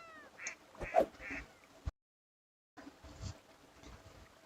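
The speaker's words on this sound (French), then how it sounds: "Il n'y a pas qu'un bruit de canard, si?" A duck in the video game Heartopia quacks in a few close, clear bursts, then a short total silence follows before softer game ambience returns.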